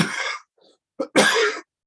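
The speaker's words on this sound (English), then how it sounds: "just have a little cough to get rolling." A person coughs up close: two rough, throaty coughs separated by a short pause, with no speech.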